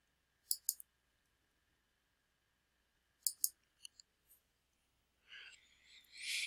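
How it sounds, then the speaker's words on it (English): Quiet, sharp mouse clicks while navigating Classic Google Sites: a quick pair early on, then a cluster of three or four spaced taps, followed by a brief soft rustle near the end. "I'm doing it simply by clicking"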